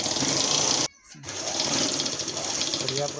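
A sewing machine stitches the border of a godhadi quilt made from old saris, running as a steady close whir that breaks off briefly near the one-second mark and then resumes.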